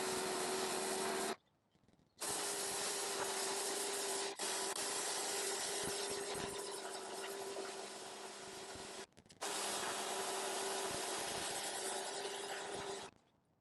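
A pressure washer sprays steadily at close range onto a 2006 Honda Odyssey's carpeted floor mats outdoors, a loud continuous hiss broken by two short pauses where the trigger is released.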